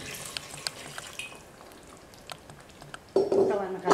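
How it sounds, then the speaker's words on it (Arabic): A spoon stirs a Tunisian sweet-savoury ragout with dried fruit in a pot, with scattered soft scrapes and clinks followed by a louder burst of sizzling and liquid near the end. "ونحرك"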